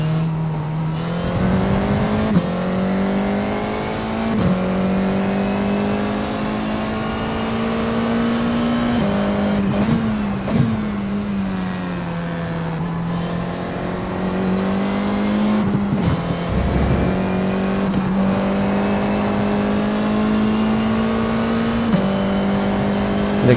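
An F4 race car on the Hungaroring circuit in a racing game, its engine loud and close throughout, holding a high whine through long pulls with brief dips and sharp shifts as it brakes and accelerates through corners.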